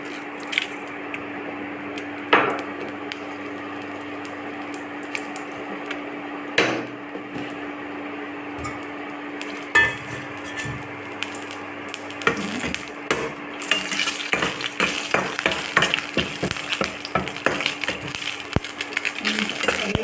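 Green chillies sizzle and are stirred in a pan while cooking a paneer mixed-greens rice, a steady frying hiss with scattered scraping clicks that grows busier and louder toward the end, under intermittent talking.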